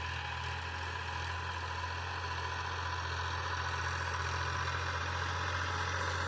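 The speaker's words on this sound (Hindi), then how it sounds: "तो ट्रैक्टर चालू हो गया है।" A farm tractor engine idles steadily in a wheat field, a constant low rumble with mechanical vibration that holds even and close throughout, with no talking.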